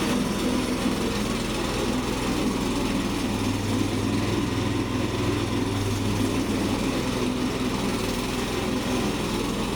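The small engine of an MTSK800 remote-controlled flail mower runs steadily after start-up, a loud, continuous, even drone close by with no change in pace over ten seconds.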